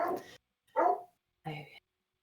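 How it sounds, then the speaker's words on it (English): Three separate barks from a dog at moderate distance, spaced roughly half a second apart with silence between them. "I apologize if you can hear the barking dogs"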